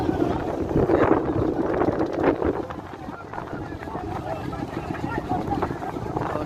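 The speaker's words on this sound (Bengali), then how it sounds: "অনেক নৌকা আসতেছে দেখতে পাইতেছি" Boats gather on the Noyai River at Alokdia, Nagarpur, Tangail: a low engine drone runs under gusty wind buffeting the microphone, with a voice talking over it.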